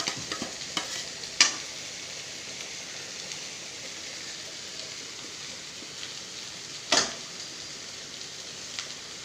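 Bitter gourd frying with lentils and coconut in a pan for a home lunch, a steady soft sizzle with stirring scrapes and two sharper clatters, no voices.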